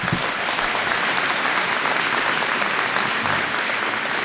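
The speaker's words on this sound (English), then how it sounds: "Let us now applaud these graduates." Steady, full applause from a large audience honoring graduates at a community college commencement ceremony, continuous and even with no speech over it.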